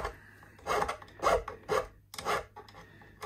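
Rhythmic rasping strokes of a file rounding off the metal frets of an Antoria guitar, several back-and-forth passes at a steady pace, close up and fairly quiet.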